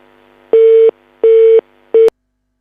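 A telephone busy signal on a phone-in line gives three loud, even tone bursts, each about a third of a second with short gaps, the last cut off abruptly.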